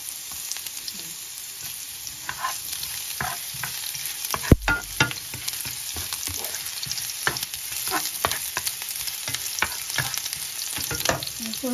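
Garlic and ginger frying in a pan, a dense continuous hiss with scattered utensil scrapes and one sharp knock near the middle, close and without speech.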